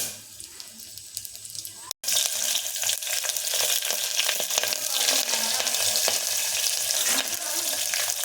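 Dry red chillies fry in oil for a tempering, giving a loud, continuous close-up sizzle that breaks off for a moment, then returns strongly and steadily.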